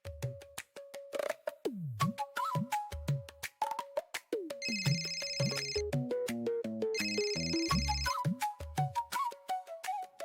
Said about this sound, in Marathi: स्वानंदीचा फोन आहे.